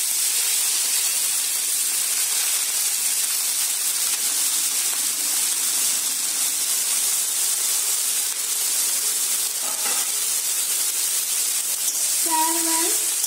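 Kumra doga, a Bengali gourd vegetable, frying in a pan, with a loud continuous sizzling hiss that holds steady throughout, plus a brief clatter near the end.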